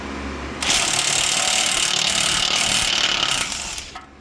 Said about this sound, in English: we're just going to take our 21 mil socket, our impact, get that baby on there